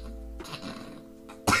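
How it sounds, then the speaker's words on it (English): A person coughs: one short, harsh cough at the very end, close and loud, after a quieter breathy stretch with a bit of throat noise and no speech. "The body coughs, like coughing is a response to clearing out whatever is in there, right?"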